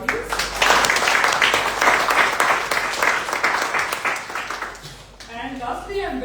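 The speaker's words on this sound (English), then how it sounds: "Can I have a round of applause for the audience?" A conference audience in Ahmedabad claps loudly for several seconds, then the applause fades out as a voice begins speaking.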